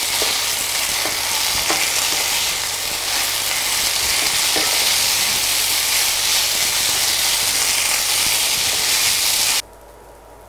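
Ghee sizzles and fries in a pan for jeera rice, a loud steady crackling hiss with faint stirring clicks that drops away abruptly at the end.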